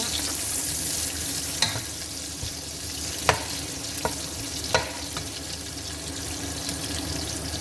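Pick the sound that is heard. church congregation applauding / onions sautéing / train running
onions sautéing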